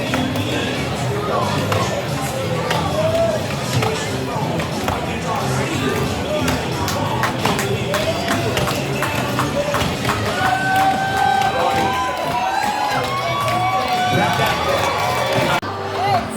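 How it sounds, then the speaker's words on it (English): Axes strike wood in the springboard chop at the Hoquiam Loggers' Playday, sharp irregular chops repeating through a long stretch amid a cheering outdoor crowd, with an announcer's voice talking over them. "Springboard chop, a Hoquiam Loggers Playday favorite and a crowd favorite for years now"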